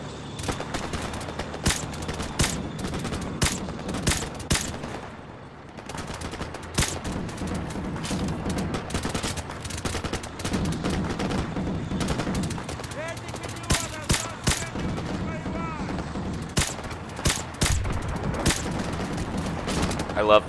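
Automatic gunfire in the Modern Warfare video game: a long run of sharp, close shots in quick bursts and scattered single cracks, with someone talking over the shooting throughout.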